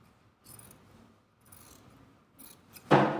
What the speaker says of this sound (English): We're going to trim it down just like we did.